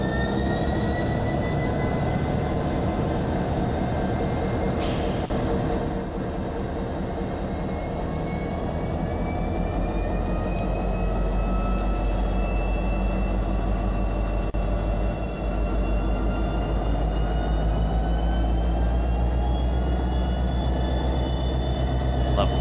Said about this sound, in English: And lastly, we'll do the GP15-3s. Same horn, same deal.